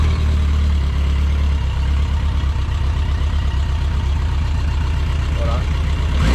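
Motorcycle engine running steadily and close, a low continuous idle-like rumble throughout with no clear start moment, in a snowy mountain setting with a faint voice at the end.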